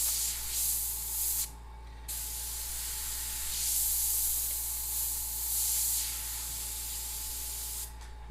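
Airbrush spraying paint for lowrider-style art, a steady close hiss that swells and fades in a few passes with short pauses, over a constant low compressor hum.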